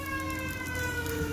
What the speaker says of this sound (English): As the ambulance is coming by because there's so much damn heat.